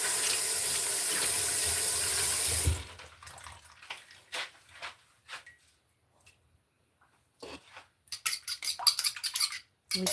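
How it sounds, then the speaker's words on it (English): Water from a kitchen tap runs loudly and steadily while hands are rinsed of raw egg, then cuts off abruptly, leaving faint clinks and small handling sounds. "Gotta wash the egg off my hand."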